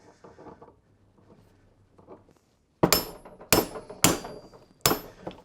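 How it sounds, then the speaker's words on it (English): A hammer strikes a tie rod end on a Toyota Celica RA23 front steering assembly four times, sharp metallic taps in an uneven rhythm after a few seconds of faint shuffling, close and loud. "Probably have to give it a little bit of a love tap with a hammer to get it on."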